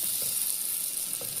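Small onions sizzle steadily in a clay pot, a continuous close frying hiss with faint stirring scrapes, heard alone without talk.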